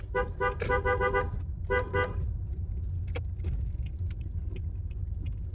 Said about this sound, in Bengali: এরকম মোড়ে এসে আপনাকে দুই একটা হর্ন দিতে হবে।